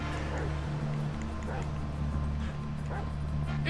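A dog barks and yips repeatedly in Grand Theft Auto 5, the sounds brief and scattered over a steady low engine drone and background game noise.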